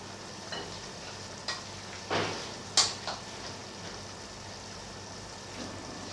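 Kefir börek batter cooks in a lightly oiled pan like an omelette, giving a steady, close frying sizzle with a few sharp clinks and scrapes of utensils, and no talking.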